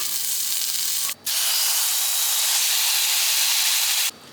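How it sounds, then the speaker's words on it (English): Julienned carrots sizzling in sesame oil in a pan, a loud, close, steady hiss that cuts out briefly and then resumes before stopping near the end. "Right now I'm gonna cook up the carrots in a little bit of sesame oil."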